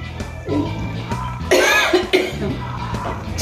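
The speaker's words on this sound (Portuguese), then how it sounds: "Tosse tá demais." Several harsh coughs come one after another close to the mic in a home kitchen where carrots are being cooked, sounding loud and alone with no talk over them.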